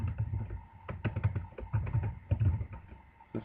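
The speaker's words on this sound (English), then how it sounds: "I'm just gonna type that for the fun of it." Rapid clicking of keys on a computer keyboard as a plugin author field is filled in, heard as close, steady bursts of taps with brief pauses between words, with no voice over it.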